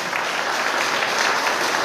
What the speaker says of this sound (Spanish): Fuerte el aplauso para todos ellos